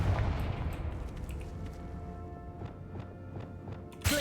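Confringo blasting curse cast in Hogwarts Legacy, a series of muffled booming thuds spaced through a rumbling game scene, ending in a sharp, loud burst.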